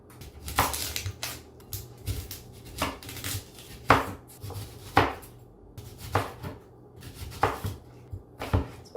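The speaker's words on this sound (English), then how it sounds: "then we're gonna slice the onion the same way" A knife slicing an onion on a cutting board, sounding as a close, steady series of sharp chopping knocks with a few quicker cuts in between.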